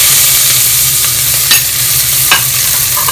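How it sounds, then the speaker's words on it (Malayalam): Sliced onions fry in hot oil for Thalassery chicken biryani, giving a loud, continuous sizzle. Occasional scrapes and stirs of a spoon sound through it, with no talking. "ഇനി നമുക്ക് ഉള്ളി വറുത്ത് കോരി എടുക്കാം."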